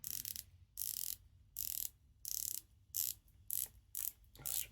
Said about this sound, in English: let's have a go on some bezel action.